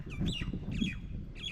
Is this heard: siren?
no